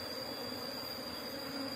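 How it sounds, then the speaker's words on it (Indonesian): Asian honey bees (Apis cerana) buzzing steadily around a hive as the colony is transferred, a dense close drone with no voices. "Proses pemindahan lebah."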